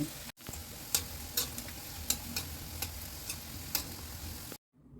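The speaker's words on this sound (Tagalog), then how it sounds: "Prituhin na natin." Sardine balls fry in hot oil with a steady, close sizzle, broken by several sharp crackling pops spread across the whole stretch before the sound cuts off abruptly.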